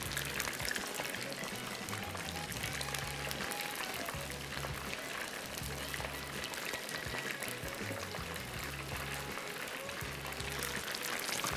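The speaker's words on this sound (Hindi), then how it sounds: "इसको हम फ्राई करेंगे, आंच बिल्कुल कम कर दी है मैंने" Kidneys frying in oil over very low heat, a steady soft sizzle and crackle running continuously with a faint rhythmic low hum underneath, no voices.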